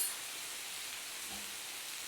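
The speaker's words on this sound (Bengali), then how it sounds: "একটু হলুদটা একটু ভাজা হবে" Turmeric frying in hot oil in a pan, a soft steady sizzle and hiss at close range, faint and unbroken, with no voices.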